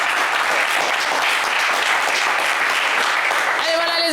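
Studio audience applause on a French TV game show, a dense steady roar of many hands clapping throughout, with a brief musical tone rising near the end.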